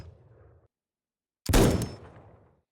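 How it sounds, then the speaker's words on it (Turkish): A single loud, sharp blast from the level 1 TF-07 shotgun in the video game Glory Frontline, with a short decaying tail after a brief quiet lead-in. "TF-07 av tüfeği seviye 1 ses efekti"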